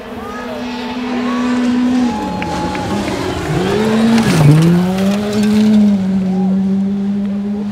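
A Ford Fiesta R2 rally car charges through a gravel forest stage, its engine howling and rising through gears as it passes close, dropping in pitch at the pass, then revving on as it pulls away.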